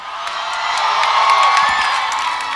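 A large crowd at a concert shouting and cheering loudly in a sustained roar, with scattered whoops rising above it.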